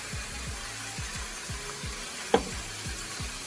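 Beef sears in a hot pan for Thai basil beef, giving a constant soft sizzle with a regular low thumping underneath and one brief sharp click partway through.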